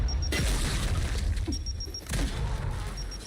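Frag grenade detonating in a video game shooter: deep booming blasts, one early and another about two seconds later, over a steady in-game background hum and faint electronic beeps, with no talk in between.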